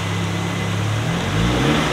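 A fully built ninth-generation car with a heavy-duty clutch revs its engine, a loud, steady, close drone that swells slightly toward the end.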